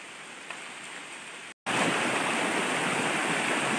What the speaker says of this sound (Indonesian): Sungai ini cepat surut dan juga cepat sekali pasang teman.